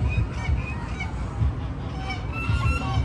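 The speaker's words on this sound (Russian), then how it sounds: "куча гусей" Several geese honk repeatedly, overlapping one another in a noisy flock close by in Batumi, Georgia, with a constant low rumble behind them.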